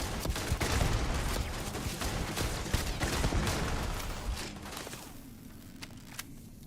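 Heavy, sustained gunfire in the Starfield Shattered Space game, with dense overlapping shots and bursts that stay loud for several seconds before thinning into scattered reports.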